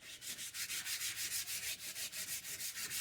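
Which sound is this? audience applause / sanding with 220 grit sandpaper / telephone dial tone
sanding with 220 grit sandpaper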